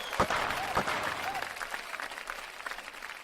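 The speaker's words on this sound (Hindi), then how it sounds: "तालियां" An audience applauds during a Diwali special comedy show, with a couple of loud claps at the start, then dense clapping that gradually thins, plus faint crowd murmur.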